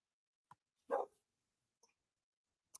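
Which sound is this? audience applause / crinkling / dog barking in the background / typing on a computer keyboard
dog barking in the background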